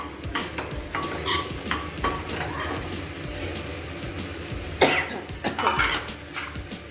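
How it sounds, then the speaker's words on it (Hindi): Taro stalks and small leaves tipped into a pot of thoroughly mashed dal, giving soft wet stirring and scraping with a few clinks of utensils against the pot, close and moderate in volume, no talk. "अब मैं इसमें पत्ते डालूंगी। ये डंठल कटे हुए और छोटे छोटे जो पत्ते रह गए थे वो इसमें डाले जा रहे हैं।"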